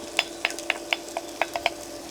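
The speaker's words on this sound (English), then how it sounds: "So my onion and garlic has been sizzling now for a few minutes" Onion and garlic sizzle in olive oil in a pan with a steady frying hiss, punctuated by about ten sharp, evenly spaced spatters or taps.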